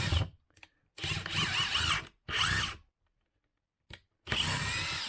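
A Kobalt 24V quick change driver backing a screw out of wood. Three bursts of whirring cut off by silent pauses, with a brief blip before a final loud run.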